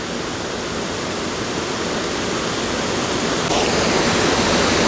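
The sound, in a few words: waterfall on a brook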